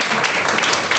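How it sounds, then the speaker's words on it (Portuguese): A church congregation bursts into brief, dense clapping, a loud burst of applause lasting about a second with no talk over it. "Vamos aplaudir a mosquinha?"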